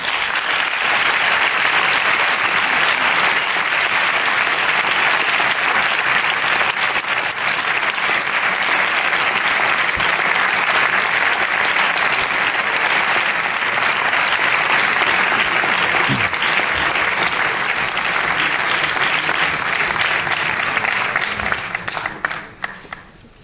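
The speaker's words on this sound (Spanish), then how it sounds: "Un aplauso para él." An audience at a film writers' awards ceremony applauds for a medal winner, a sustained, dense clapping that runs steadily for over twenty seconds before thinning and fading out at the end.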